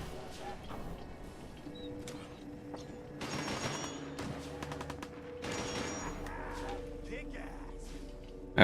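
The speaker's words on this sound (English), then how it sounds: "Okay, something's shooting." Raiders open fire in a wasteland video game, with scattered bursts of gunfire at moderate distance coming in several volleys amid ambient background noise.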